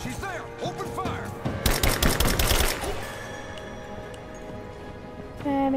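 Gunfire in the video game Rise of the Tomb Raider: a rapid burst of automatic shots crackles for about a second amid game effects and music, loud and close.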